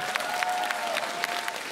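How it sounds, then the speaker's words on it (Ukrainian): Audience applause at a live concert, a brief, steady burst of crowd clapping with a few sharper individual claps standing out and a faint tone ringing through it. "Ваші оплески."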